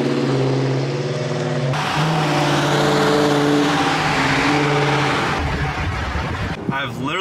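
Dodge Challenger engine revving and pulling away, a loud steady car roar that swells and holds for several seconds before tapering with a brief burst near the end, voices briefly mixed in.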